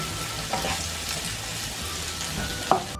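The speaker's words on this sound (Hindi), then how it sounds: "प्याज डाली, इसको ब्राउन कर लेना" Sliced onions fry in hot oil in a pan while cooking chicken tikka biryani, giving a steady close sizzle with a couple of sharp spatula clinks and no voices.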